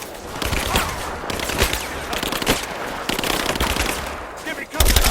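Heavy gunfire in a firefight in Rise of the Tomb Raider, dense bursts of automatic fire and scattered shots crackling continuously at close range, with shouting voices mixed in and a loud blast at the end.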